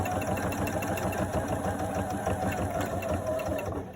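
A sewing machine runs steadily through a straight stitch, its fast, even mechanical whirring staying loud and close for the whole stretch without a break.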